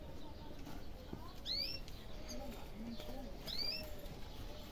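Pigeons kept together in a breeding pen coo softly; two short rising-and-falling calls stand out a couple of seconds apart over a low, constant background hum.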